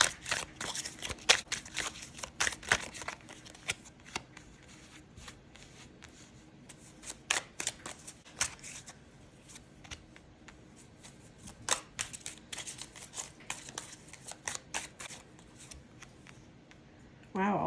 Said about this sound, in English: let's just shuffle and lay down some cards